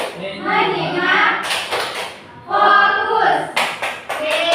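Children play the rhythmic clapping game tepuk fokus, chanting in unison with crisp claps landing between the spoken lines, close and loud.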